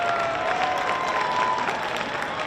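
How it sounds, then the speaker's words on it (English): A stadium crowd at a Division III state championship football game applauds the Lubbock Christian Eagle Band at halftime, a steady wash of clapping with faint cheering and a thin tone briefly above it. "let's give a big round of applause for the Lubbock Christian Eagle Band"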